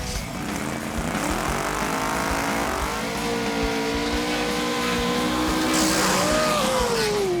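A drag race car, a blown Nova, roars loudly and steadily down the track, its pitch climbing as it accelerates hard, with a high whine rising near the end.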